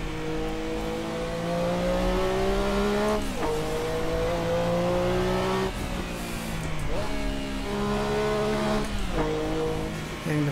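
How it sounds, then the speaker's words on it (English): A Porsche 962C race car in Assetto Corsa hits its rev limiter, the engine holding a steady high drone that cuts and stutters several times before climbing again; close and loud, with no talking. "Rev limiter."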